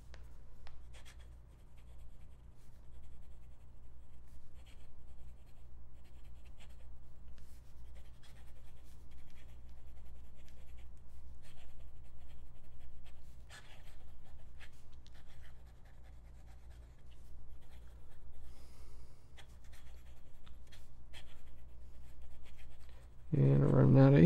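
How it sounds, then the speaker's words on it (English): Kakimori nib dipped in Iroshizuku Yama Guri fountain pen ink scratching steadily across paper, a continuous close, faint scritch of strokes with small tapping accents, running under a low steady hum. "Then we can just do the Kakimori pen nib here."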